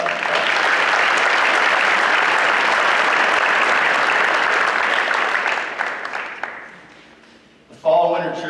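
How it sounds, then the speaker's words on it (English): An audience at a school athletic awards ceremony gives two wrestlers a steady round of applause, loud and dense for about six seconds before thinning out and dying away, with a voice coming in at the end. "let's give those two wrestlers a round of applause"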